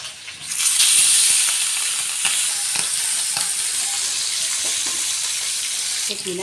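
Potatoes fry in hot oil in a pan where tengra fish has just been fried, a steady loud sizzle and hiss with occasional faint stirring taps.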